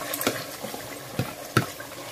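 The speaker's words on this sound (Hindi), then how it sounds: "इसके अंदर हम लोग ये मैरिनेट किया हुआ मटन भी ऐड कर देंगे" Marinated mutton goes into a pot for biryani and is stirred. Soft scraping and wet stirring knocks come in a few separate strokes over a low sizzle.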